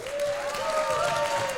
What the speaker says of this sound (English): let's just clap for your favorite candidate right now